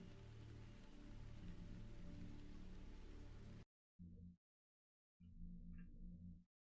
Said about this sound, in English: rain sound effects.